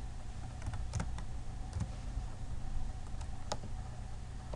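Keys on a computer keyboard are tapped in short irregular bursts while an IP address is entered, faint and close against a steady low background hum.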